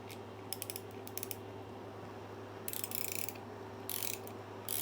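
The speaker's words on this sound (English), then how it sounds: "I have a 14mm wrench, 2 of them. I got one on one side and one on the other side." A 14mm wrench tightens a bolt with rapid ratchet clicking in several short bursts over a steady low mechanical hum, close and moderately loud, no voices.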